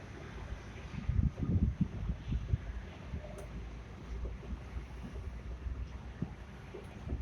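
A buggy vehicle rolling toward a housing estate site, heard as a low rumbling drive with buffeting wind on the microphone, steady and fairly close without speech.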